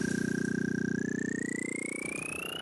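Audio played back at very slow speed in VAudio, a smeared, droning tone with slowly rising pitch lines over a steady pulsing wobble, continuous and fairly quiet with no voices.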